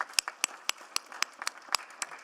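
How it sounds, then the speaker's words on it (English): Sparse applause in city council chambers, a handful of distinct claps at a slow, uneven rhythm, fairly close and isolated rather than a full crowd ovation. "a round of applause for these amazing folks"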